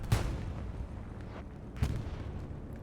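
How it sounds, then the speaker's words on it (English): Heavy booming blasts from an Axis aircraft bombing run on the Stalingrad map in Hell Let Loose, two sharp distant detonations about two seconds apart with rumbling in between. "Bombing run coming in from the Axis"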